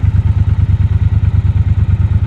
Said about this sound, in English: So that's the exhaust sound.